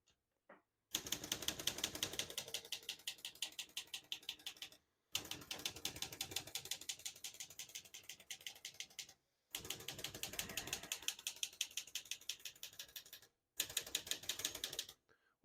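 A 1964 Olivetti Lettera 32 vintage portable typewriter being typed on steadily in four bursts of rapid, crisp key strikes separated by brief pauses, close and clear with no talking.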